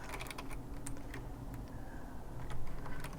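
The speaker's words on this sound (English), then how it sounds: "So I have to type it in first." Soft, quick keystrokes tap on a computer keyboard at close range in a quiet room, an irregular patter of clicks with no talking.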